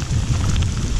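Heavy rain pours during a mountain bike ride high in the Amanos mountains, a dense, loud, continuous wash of drops with wind noise and no talk.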